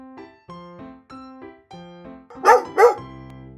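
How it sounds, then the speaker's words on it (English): A dog gives two loud, close barks near the end, following several soft repeated tonal notes of background music. "It's a dog."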